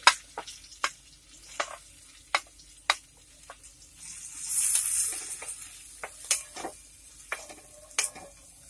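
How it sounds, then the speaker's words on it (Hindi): Onions sizzle softly in a pan while a utensil taps and scrapes intermittently, close by, with a brief louder hiss midway. "फिलहाल मैं यहाँ पे अभी प्याज फ्राई करूंगी।"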